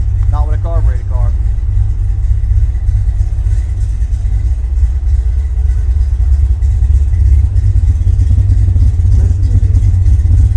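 Carbureted car engine with an aggressive cam idling close by, a loud, steady low rumble with a lumpy pulse, a short voice briefly at the start.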